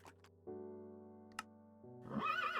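A Minecraft horse from the Mo' Creatures mod lets out a single whinny at the end, following a sustained synthetic tonal hum with a small click, clean game audio with no voices.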